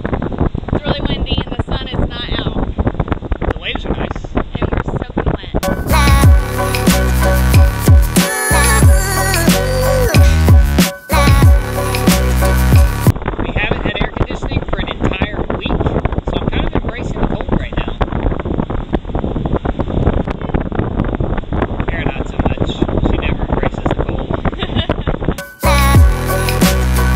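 Strong wind buffeting the microphone on a cold, exposed coast overlooking the waves, a loud continuous roar with gusts and brief talking voices.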